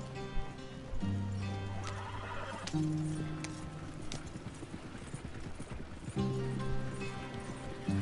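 Horse hooves clip-clopping at a run in the Western video game Red Dead Redemption 2, with repeated neighs and whinnies over the galloping rhythm, close and clear, alongside game music tones and no talking.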